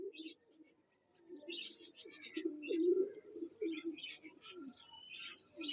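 Pigeons coo softly in a low, rolling murmur, with scattered higher chirps and twitters from nearby birds over quiet surroundings.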